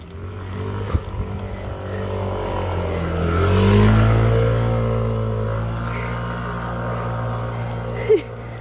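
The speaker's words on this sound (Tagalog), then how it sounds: "Uy, para may truck." A truck passes on the road during a bike ride, its engine droning and swelling louder as it nears, then fading, with a couple of sharp knocks.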